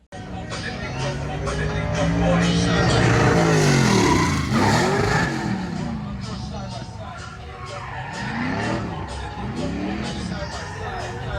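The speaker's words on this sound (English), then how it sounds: "We went to the drift event. I'll throw in some clips here." Engines rev loudly as cars slide past at a drift event, with swooping pitch changes and tire noise, over a background of crowd chatter.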